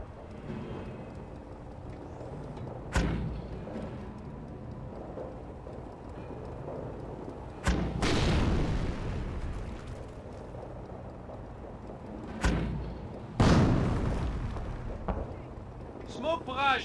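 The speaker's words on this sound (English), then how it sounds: "Motor crew, fire barrage!" A Company of Heroes mortar barrage lands in several heavy booming impacts spread out over time, each with a rumbling decay over a low battlefield ambience. Voices call out in between.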